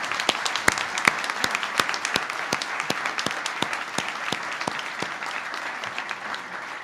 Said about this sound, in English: can we have a huge round of applause for Dr.